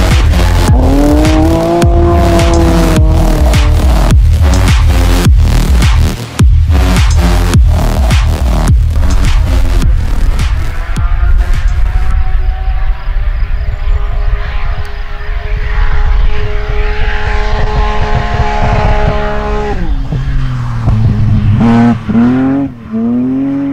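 A BMW M2 drift car at a French drift championship revs hard in rapid repeated bursts, its engine note climbing and falling, then holding a long sustained roar with tire squeal, loud and close throughout.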